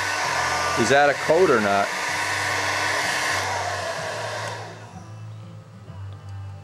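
A hair dryer runs loud and steady throughout as a continuous whirring drone, with a brief voice speaking over it early on.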